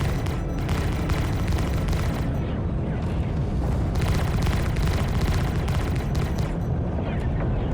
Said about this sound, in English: I got repeating cannons.